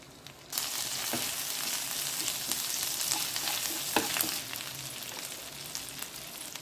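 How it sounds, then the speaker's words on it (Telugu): Ginger garlic paste hits hot oil in a pan with curry leaves, bursting into a sudden dense sizzle that holds steady, with a couple of soft spoon taps near the middle. "స్పూన్ అల్లం వెల్లుల్లి పేస్ట్ వేస్తున్నానండి"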